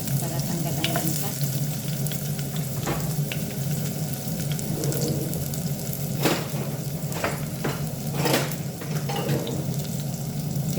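Onion, garlic and ginger sauté in hot oil for an Arabic salona, a steady loud sizzle running throughout, broken by several scrapes and knocks of a ladle stirring the pan.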